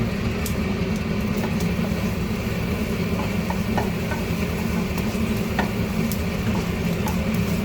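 Spices and asafoetida sizzle in hot oil for a tempering, making a continuous close crackle with light stirring and faint background hum.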